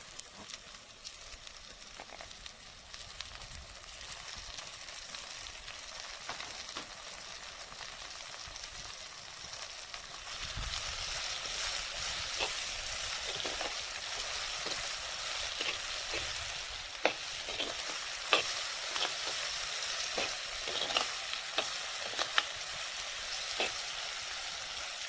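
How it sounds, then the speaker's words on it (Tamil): Onions and tomatoes sautéing in a pan for village-style egg curry, a steady close sizzle with scattered spatula scrapes and taps that grows louder and busier partway through. "தக்காளி சேர்த்து நல்லா வதக்கி விடலாம்"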